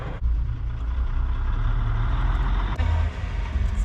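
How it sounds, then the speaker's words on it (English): A dump truck rumbles past on a farm, a loud, steady low engine drone lasting the whole stretch, with a brief dip and swell partway through as it moves by. "There's a dump truck coming, so if you can hear that noise, that's what that is."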